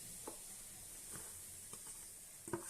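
Grated coconut frying in ghee at low heat for rava laddu, a faint steady sizzle with a few soft scraping stirs.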